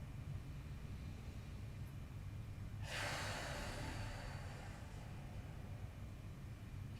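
A single open-mouth exhale during a yoga hip stretch, a soft breathy rush lasting about two seconds that rises suddenly and then fades, alone against a quiet hiss.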